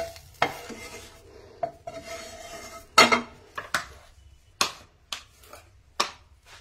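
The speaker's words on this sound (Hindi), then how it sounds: "इसी कढ़ाई में अब हम दोबारा से अपनी सब्जी को फ्राई करने वाले हैं।" Vegetables frying in a kadhai, with sharp metal clinks and scrapes from a spoon stirring them at an irregular pace over a faint sizzle, close by.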